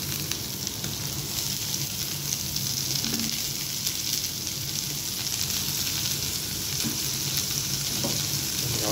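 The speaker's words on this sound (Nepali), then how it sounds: "अब अघि काटेको लसुन र एकछिन लसुन भुट्न पर्छ होइन। लसुन प्याज हाल्नुपर्छ अलिअलि।" Garlic and onion fry in a pan with a continuous close sizzle, a steady crackling hiss lasting throughout with a few faint stirring knocks and no speech.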